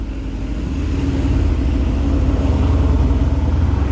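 A Mercedes-AMG GT R sports car engine rumbles steadily at close range, its deep low growl swelling slightly louder partway through and holding there, with no voices over it.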